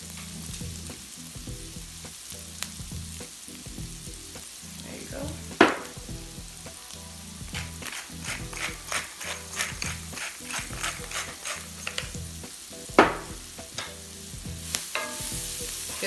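Onions and peppers fry in a pan for Philly cheesesteak sliders, a constant close sizzle with a run of rhythmic scraping stirs and a couple of sharper utensil knocks.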